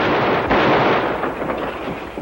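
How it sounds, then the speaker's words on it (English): Tear gas shells fired through a back window, a dense, loud burst of blasting and crackling noise that fills the short moment without letting up. "Two of you lob a couple of shells through that back window."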